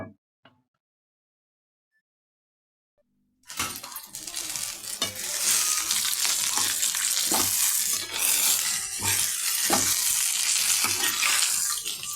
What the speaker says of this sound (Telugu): మొత్తం జీలకర్ర పల్లీలు పచ్చిమిరపకాయలు అన్ని ఫ్రై కావాలన్నమాట